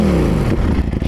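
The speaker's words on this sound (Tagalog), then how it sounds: "ng sound check ng full exhaust na Acra Balvic full exhaust system" A Ducati Streetfighter V4 S with an Akrapovic full exhaust system revs briefly, a loud engine note dropping in pitch and breaking into a rough, burbling idle.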